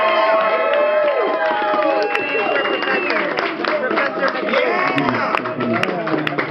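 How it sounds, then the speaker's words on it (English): A crowd at a talk about Stravinsky's Rite of Spring applauds and cheers for the speaker, with dense, close clapping and whoops, and voices shouting over it throughout. "Please give a warm round of applause to Jason McCool."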